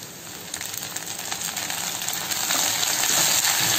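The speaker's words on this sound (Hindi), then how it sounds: "इसे थोड़ा सा फ्राई होने देते हैं।" Dried whole red chillies and curry leaves fry in hot oil, a close, bright, continuous sizzle with faint crackles that grows slightly louder as it goes.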